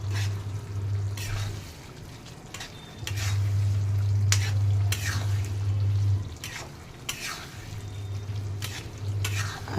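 Pumpkin curry simmering in a pan as dry rice flour is stirred in, regular scraping strokes of a spoon over a bubbling cooking background, with a low hum rising and falling.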